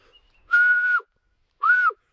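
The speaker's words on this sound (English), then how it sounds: "Whistling attempt turned into frog sounds." Two whistled notes, a long steady tone followed after a pause by a shorter one, each ending with a slight downward slur; clear and close.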